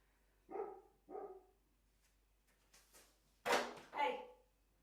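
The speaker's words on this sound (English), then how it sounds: "The dog has started to bark at something." A dog barks outdoors on a hot day, a few sharp, fairly close barks in separate bursts with pauses between, along with some faint background sounds.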